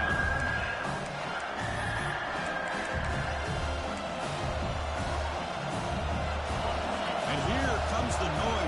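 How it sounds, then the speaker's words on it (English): Roaring college football stadium crowd at a Mississippi State versus South Carolina game, building noise during a red zone defensive stand, a dense, distant-sounding wash of cheering heard under a play-by-play announcer's voice. "This crowd is trying to inspire this defense to make a big red zone stop"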